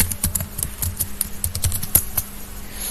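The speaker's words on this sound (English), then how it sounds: "I will just type my password and confirm the password by typing the password again" A password typed on a computer keyboard in a quick, steady run of close, crisp key clicks, alone and without talk.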